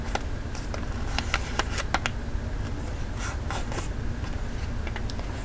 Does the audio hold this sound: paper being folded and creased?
yes